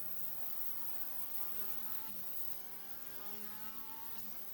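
A race car at Oulton Park holds near full throttle through the high-speed Highland Bend, a steady buzzing engine drone with faint pitch wavering, moderately distant and without talk.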